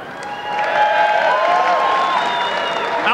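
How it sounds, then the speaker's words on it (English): A boxing arena crowd applauds and cheers for the referee at ringside, a steady dense wash of clapping that swells in after a half-second and holds loud, with some whistles and scattered voices. "give him a round of applause"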